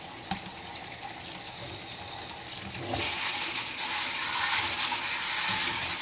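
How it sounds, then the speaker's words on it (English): Tap water runs steadily into a sink while shrimp are rinsed for a seafood boil, a continuous close splashing hiss that grows louder and fuller about halfway through, with no talking. "We're gonna rinse off them shrimps."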